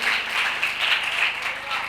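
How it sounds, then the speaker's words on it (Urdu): A church congregation applauds during a sermon with sustained, dense clapping at moderate loudness, with voices mixed in beneath the applause. "اس کے لیے زوردار تالیاں بجا دیجیے"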